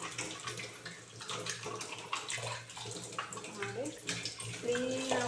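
A small aquarium tank motor is rinsed under a running tap, water splashing and trickling steadily throughout with a low hum beneath and faint voices in the background.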